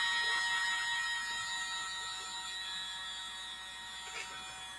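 A small handheld electric blower runs over wet acrylic pour paint, making a steady, moderately loud buzzing whir that fades slightly toward the end, with little else over it.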